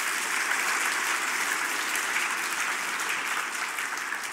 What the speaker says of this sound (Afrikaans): Laaste hande klap vir ons Blydenstadskinders.